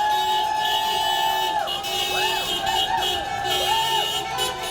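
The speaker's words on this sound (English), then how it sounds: "Centerway Square in Corning was filled with people protesting the Trump administration." Protest crowd filling Centerway Square in Corning, a loud, dense mass of voices with whoops and cheers over a steady roar, siren-like tones sweeping up and down through it.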